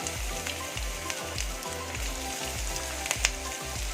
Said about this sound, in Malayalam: ആ ഉള്ളി ഇട്ട് കൊടുക്കുക.